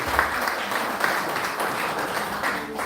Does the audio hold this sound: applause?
yes